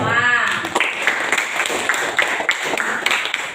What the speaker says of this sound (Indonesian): tepuk tangan untuk kelompok 5